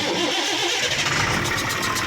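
Ashok Leyland BS3 truck diesel engine cranking and starting, a loud, close, continuous mechanical churn that settles into a rough rhythmic clatter.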